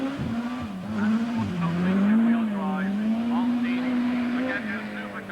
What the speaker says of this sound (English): as you can hear the revs roaring up